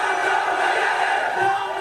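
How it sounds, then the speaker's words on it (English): A large crowd at the Erecha festival chants anti-government slogans together, a dense, loud roar of many voices that holds steady without a break. "The young man who got on stage began leading the crowd in anti-government chant"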